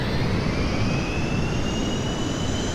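A jet engine in Kerbal Space Program runs at full throttle on a test bench, a loud, steady, continuous roar with a high whine that climbs slowly throughout.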